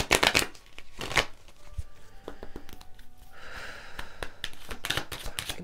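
Tarot cards being shuffled and drawn, heard as crisp riffling bursts near the start and around the one-second mark, then lighter flicks and card snaps later. The cards are close and fairly loud, with no talk.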